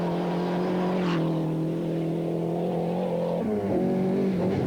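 An Opel rally car drives at the 1994 Jamaican Rally, its engine a steady loud drone with a brief gear change and rev near the end.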